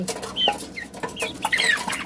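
Several chickens clucking and squawking close by in short irregular bursts, with no voices; ducks are kept with them.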